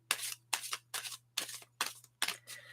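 Quiet, close riffle-shuffling of an oracle card deck, six short crisp bursts of cards flicking together at a steady, even pace with brief pauses between.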